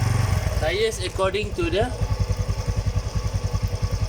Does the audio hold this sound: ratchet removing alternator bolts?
no